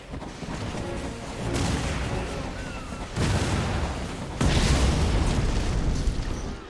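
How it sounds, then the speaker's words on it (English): A bridge blown apart in the real-time strategy game Red Alert 3: three deep, rumbling explosion blasts roughly a second and a half apart, each swelling louder, over continuous battle noise. "The bridge is now down."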